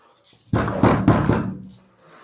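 A hammer striking a piece of metal in a classroom demonstration of sonorous metals, a short sequence of a few quick knocking hits that ring briefly, close and fairly loud, then fade.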